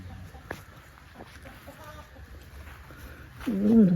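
Chickens clucking around a rural farmyard in northeastern Thailand, a few soft scattered clucks early on, then a louder nearby hen call rising at the end, with faint background murmuring.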